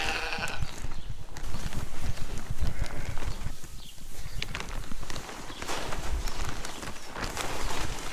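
Lambs and sheep on a farm at feeding time, with bleats and shuffling hooves and footsteps moving through the pen, close and busy with no talk.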